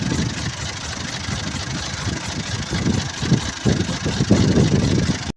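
A maize sheller machine's engine runs outdoors, a steady low droning rumble that holds close and even throughout, with slight swells in loudness and no voices.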